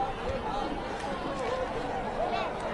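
Crowd at a Modi road show during an election campaign, a dense continuous babble of many voices and shouts, fairly close and steady throughout.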